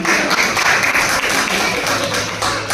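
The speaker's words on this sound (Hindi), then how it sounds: "एक बार जोरदार ताली।" A crowd at a community award event in Ghaziabad gives a steady burst of loud clapping that lasts throughout, dense and continuous with no talking over it.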